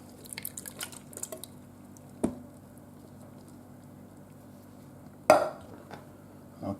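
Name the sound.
diced tomatoes being added to a pressure cooker pot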